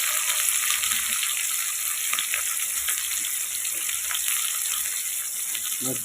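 Onions sizzle steadily in a pan over a clay stove while mushroom curry is being cooked, a loud, continuous crackling hiss that stays close and even throughout, with no talk.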